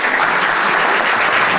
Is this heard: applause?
yes